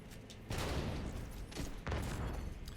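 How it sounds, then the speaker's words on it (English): Grenade explosions in The Division 2 video game: two loud, heavy booming blasts roughly a second apart, each followed by a rumbling tail with no talking. "Let me grenade myself"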